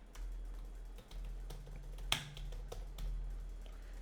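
Python NumPy code typed on a computer keyboard produces a run of soft, irregular key clicks with one sharper tap near the middle, over a low steady hum and with no talking.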